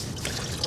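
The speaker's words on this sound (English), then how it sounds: "you can hear some coolant draining out" Coolant trickles and drips out of a Honda Civic's thermostat housing during a thermostat replacement, a brief, close, soft liquid dribble with a small splash near the end.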